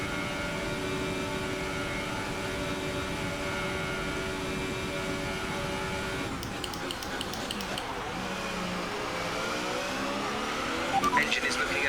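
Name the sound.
F1 race car engine in F1 2018 video game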